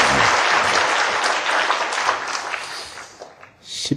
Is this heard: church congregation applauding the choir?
yes